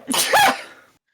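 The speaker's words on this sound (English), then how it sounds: "Evil sneeze, that is evil. Disrespectful sneeze." A single loud, close human sneeze, a sharp burst with a short inhaled lead-in that fades within a second.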